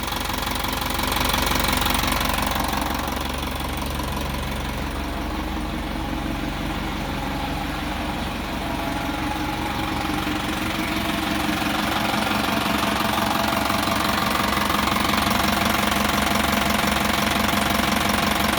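The diesel engine of a used Isuzu NPR130 six-wheel truck idles nearby with a loud, rough, knocking rumble that chugs steadily throughout, no voices over it.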